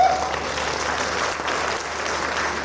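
A Hindi poetry recital audience applauding, a continuous dense burst of clapping from a large crowd, loud and sustained throughout.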